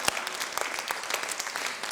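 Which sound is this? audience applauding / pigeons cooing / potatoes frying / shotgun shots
audience applauding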